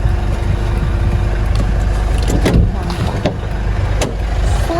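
Steady loud engine drone and road rumble fill the cabin of a moving car, continuous and close throughout, with a few faint bumps and knocks.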